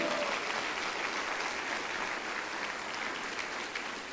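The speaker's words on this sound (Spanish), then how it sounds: "¿Alguien le puede dar un aplauso fuerte al Señor?" A church congregation at a Sunday morning service applauds the Lord loudly, a thick, continuous roar of many clapping hands with a faint murmur of the crowd mixed in.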